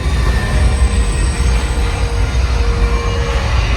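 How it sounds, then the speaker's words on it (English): A loud, continuous rumbling roar of a runaway subway train effect on a studio sound stage, with metallic screeching tones riding over the heavy low-end thunder. "got a runaway subway train!"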